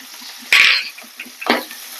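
Onion, a dried red chilli and a green chilli frying in oil in a pan for a cucumber and potato curry, a close soft sizzle with a couple of brief louder bursts as ingredients hit the hot oil or are stirred.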